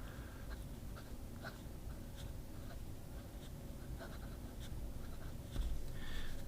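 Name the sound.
Omas fountain pen nib writing on paper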